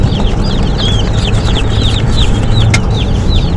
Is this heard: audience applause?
no